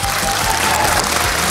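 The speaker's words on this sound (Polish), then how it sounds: "Wielkie oklaski dla Pana Profesora." A broadband wash of clapping rises from a live audience at a charity broadcast, honoring a professor, steady and full with no voices over it.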